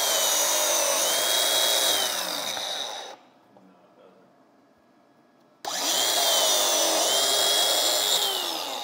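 A biscuit joiner cuts a slot in a wood board: a loud, steady high-pitched whine for about three seconds, a pause, then a second equally loud burst of the motor.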